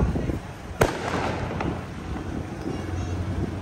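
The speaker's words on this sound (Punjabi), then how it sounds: "ਦਿਵਾਲੀ ਦੇ ਲੋਕ ਪਟਾਕੇ ਚਲਾਉਂਦੇ ਹੋਏ" Diwali firecrackers set off by people in a busy market: one sharp, loud crack rings out near the start, followed by a fainter pop, over wind buffeting the microphone and the murmur of a crowd.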